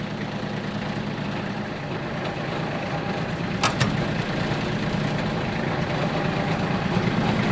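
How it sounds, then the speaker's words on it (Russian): A Kubota ZL1-275 tractor engine idles steadily with a low mechanical drone while the tiller is raised and lowered, with a brief hydraulic click in the middle and no change in the engine note. "Так, подъем, опускание фрезы."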